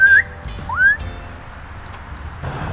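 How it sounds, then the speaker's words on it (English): A person at a small zoo whistles, two short rising whistles close by, the second sliding upward, followed by quiet background with faint ambient noise. "Can you whistle for him?"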